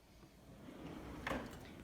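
A soft-close cabinet drawer in a kitchen glides shut with a faint slide and a soft muffled thud near the end, quiet and close.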